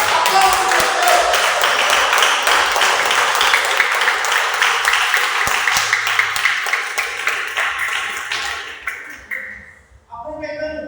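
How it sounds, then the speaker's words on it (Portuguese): A church congregation claps loudly and steadily for close to nine seconds during a Sunday service, with voices mixed into the applause before it fades away near the end. "Aplausos a Deus."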